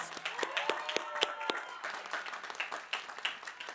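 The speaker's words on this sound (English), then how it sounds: "Let's give them all a round of applause." Audience applause at the San José City College 2025 commencement ceremony, moderately quiet and somewhat distant, with scattered individual claps standing out from a looser crowd clapping that tapers gradually.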